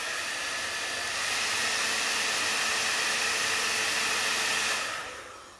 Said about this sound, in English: I'm going to speed up that process with the aid of my trusty hairdryer.